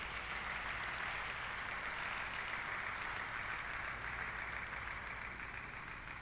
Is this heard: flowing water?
no